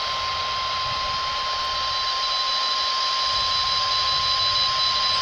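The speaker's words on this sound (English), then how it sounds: "And we've got our signal maximized again." HF radio signal received through a Bushcomm Loop40 compact loop antenna: a steady, loud, unbroken tone over a constant hiss of static, lasting throughout.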